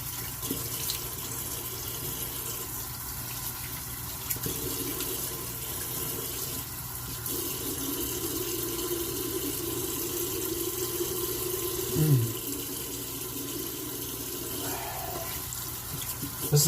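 Tap water runs steadily into a sink at low level while a face is rinsed after a wet shave with thick shaving soap, with faint splashing and brief shifts in flow.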